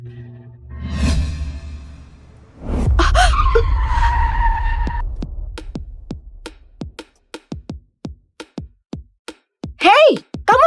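A speeding car brakes hard and skids to a stop on a road, a loud tire screech and rushing whoosh that fades out, followed by a series of sharp clicks and a brief shout.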